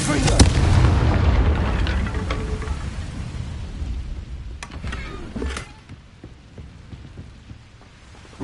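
A Confringo blasting spell goes off in the Hogwarts Legacy video game with a loud, rumbling burst at the start that fades into crackling debris, followed by a few fainter impacts.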